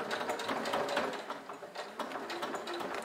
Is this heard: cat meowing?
no